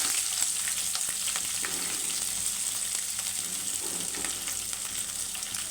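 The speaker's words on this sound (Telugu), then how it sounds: "ఉల్లిపాయ కూడా లైట్గా వేగాలి చూడండి" Medium-sized onion, chopped small, frying lightly in a pan for beaten rice upma, giving a steady, soft, continuous sizzle with faint stirring scrapes throughout.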